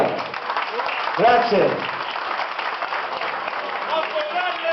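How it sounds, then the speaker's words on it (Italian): Restaurant dinner-show audience at Vietri sul Mare applauds a performer in a steady, moderately loud wash of clapping, with someone briefly speaking over it. "Un bel applauso a lui, vai."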